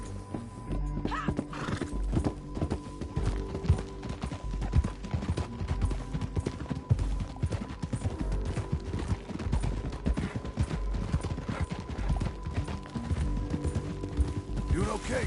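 Horse hooves clip-clopping steadily as the horse is ridden in Red Dead Redemption 2, close and continuous with a neigh early on, creaking tack and background game sounds, with people talking over it.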